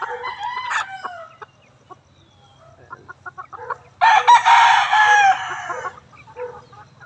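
A Kanawayon rooster kept in a cage gives a loud, close crow, with scattered clucks and softer calls before and after it and no talk.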